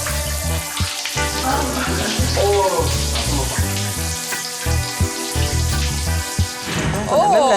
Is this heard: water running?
yes